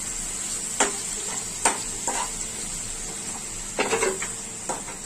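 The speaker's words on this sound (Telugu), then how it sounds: "వేసుకొని ఒక 5 minutes వేయించుకోండి." Green chillies and tomato pieces for a prawn curry fry in hot oil, a steady hiss punctuated by several sharp clinks and scrapes of a spoon against the pan.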